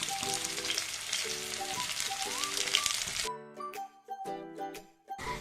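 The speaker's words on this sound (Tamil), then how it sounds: "இன்றைக்கி லஞ்சுக்காக நான் வந்து ஃபிஷ் ஃப்ரை பண்ணிகிட்ருக்கேன்" Fish fries in an iron pan, giving a steady sizzle for about three seconds before it drops away to quieter scattered crackles and clinks, with no voices.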